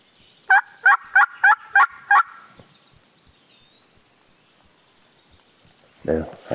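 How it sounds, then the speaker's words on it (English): Wild turkey gobbler calling on a steep wooded hill, a rapid burst of six sharp rattling gobble notes at moderate distance, followed by quiet and a brief nearby noise. "One just gobbled."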